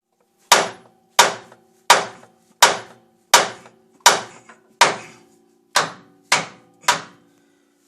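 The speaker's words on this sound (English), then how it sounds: "Just hit it with a hammer." Hammer blows strike a steering part on a 2013 Ram 2500 pickup during a 5-inch bracket lift install, about eleven loud, sharp metallic hits in a steady, evenly spaced rhythm with short ringing decays.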